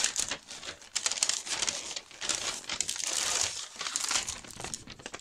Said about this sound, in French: je m'excuse pour le bruit. C'est une très belle enveloppe craft